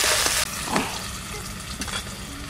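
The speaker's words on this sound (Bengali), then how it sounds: "শাক ভাজার জন্য কড়াইতে তেল দিচ্ছি" Onion fries in hot oil in a wok, giving a continuous crackling sizzle with a few brief splashes and no voices.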